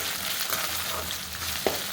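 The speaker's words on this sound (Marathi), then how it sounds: "भाजीची फोडणी चांगली शिजू द्या, चांगली खमंग होऊ द्या." Chickpea greens (harbhara bhaji) tempering frying in a pan, a steady soft sizzle running throughout with a brief stir-like click near the end, no talk.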